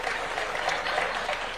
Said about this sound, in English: A clap for Mariam, please, for moderating us very well.